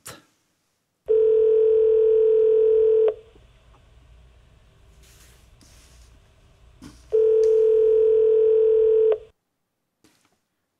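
A telephone dial tone sounds in two long, steady bursts of about two seconds each, separated by a quieter stretch of faint line hiss, with a brief click at the start and end.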